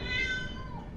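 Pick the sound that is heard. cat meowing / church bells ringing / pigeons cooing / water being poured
cat meowing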